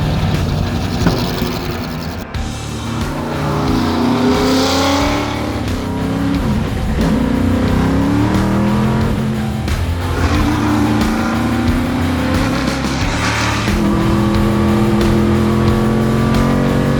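Spice SE92 GTP race car engine howling at high revs, loud and close, with rising and falling pitch as it accelerates and shifts gears, no voices.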